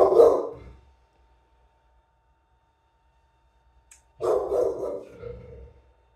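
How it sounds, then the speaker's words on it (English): Dog barking indoors nearby, one bark burst at the start and a longer barking sequence after a few seconds of silence. "There's my dog."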